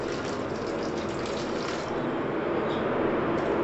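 Warm water poured into a pot of Naga-style bamboo shoot chicken curry, a steady gushing splash that runs unbroken and close for a few seconds.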